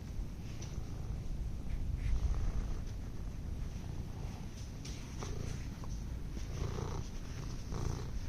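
A contented cat purrs steadily up close, a soft continuous low rumble lasting throughout with faint rustling and no talking.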